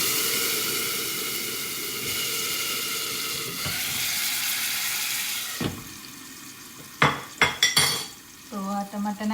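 Tomatoes and spices fry in a pan with steady loud sizzling, then sharp metallic clinks and scrapes of a utensil against the pan near the end, with no voices heard.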